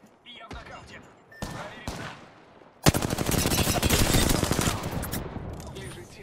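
Rapid bursts of gunfire from the video game Apex Legends crackle in quick succession, building to a sustained, loud automatic volley with a few separate shots before it, while in-game voices speak over it.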